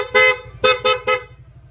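Stock horn of a Honda Click V3 scooter, one longer beep followed by three short, even honks in quick succession, loud and close with no talk.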